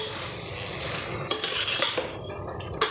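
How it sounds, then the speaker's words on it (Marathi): Rice and moong dal being stirred in a metal pot for khichdi, a spoon scraping and clinking against the sides in a few close, steady strokes with no talking. "तांदूळ आणि मुगाची डाळ हे घालूया मिक्स करून घेऊयात"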